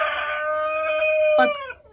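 A Lohmann Sandy hen vocalizes while laying in a coop nest, a drawn-out tonal call that rises and breaks into a short cluck before fading, close and fairly clear.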